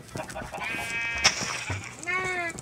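A light blue sheep in a video game gives two wavering bleats, separated by a sharp click, while a person talks in the background.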